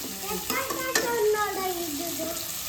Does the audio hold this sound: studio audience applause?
no